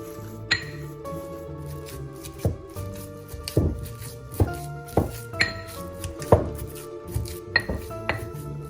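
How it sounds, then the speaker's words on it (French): A pestle pounds pistachio pesto with olive oil in a mortar, giving a steady series of sharp clinks and thuds, about one or two per second, loud and close with no talk. "j'y vais avec la force des bras au pilon pour bien mélanger et homogénéiser le pesto"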